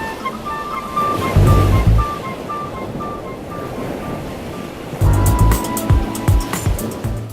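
Ocean waves break along the Wild Coast of South Africa, with two heavy surges of crashing surf separated by a softer wash of churning water and wind rumble.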